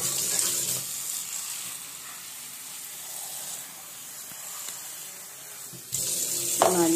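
Hibiscus leaves being washed under a running tap, a soft steady stream of water with a faint splashing hiss, quieter in the middle and swelling louder with a brief clatter near the end.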